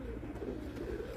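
Pigeons coo softly in a low, steady murmur on a rooftop, faint and continuous with no voices over it.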